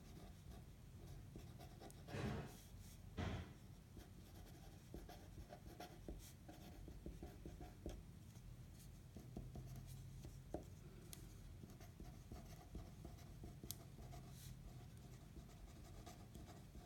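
Pen or marker writing notes during a statistics lesson, a faint, steady scratching and rubbing that runs throughout with occasional soft taps and no talking.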